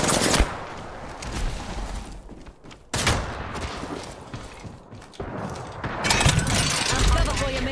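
Rapid bursts of automatic gunfire and sharp shots in the Apex Legends battle royale shooter, loud and close, in repeated clusters with brief pauses, mixed with game effects and voices.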